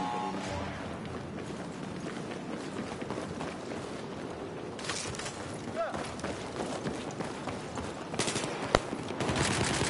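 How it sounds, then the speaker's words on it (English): Rapid automatic gunfire rattles through a video game shooter match set in snow, with bursts and scattered shots over continuous action noise while players talk over it. "Getting shot from my left side."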